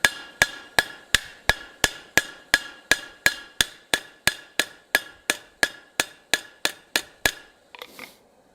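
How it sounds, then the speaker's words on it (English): A rivet is hammered down on a forged ladle handle with about twenty sharp metallic strikes in a steady, even rhythm, close and ringing, followed by a brief softer scrape. "And then I'm just going to rivet this piece right on down."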